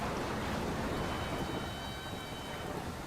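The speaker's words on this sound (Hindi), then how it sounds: "बारिश पूरे जोर शोर से हो रही थी।" Steady heavy rain roars across the whole clip, with a low rumble of thunder underneath and no voices.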